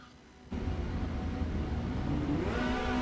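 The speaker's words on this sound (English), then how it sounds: "You can hear the engines start to harmonize." Several Formula Renault 2.0 race car engines idle and rev together on the grid in iRacing at Autodromo Enzo e Dino Ferrari, building to a steady, close, layered drone with a rising harmonizing pitch near the end.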